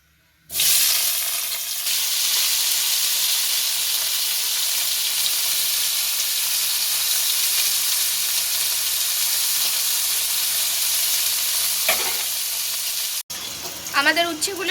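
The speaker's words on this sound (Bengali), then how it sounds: "তেল গরম হয়ে গেছে, এবার এতে উচ্ছে দিয়ে ভেজে নেব।" Bitter gourd frying in hot oil in a wok, a loud, dense sizzle that bursts in at once and holds steady for many seconds before a few softer sounds at the end.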